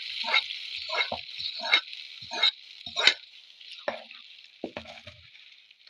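Grated coconut, green chilli and curry leaves fry in a pan with a continuous hiss, broken by repeated scraping stirs at a steady pace, close and moderately loud.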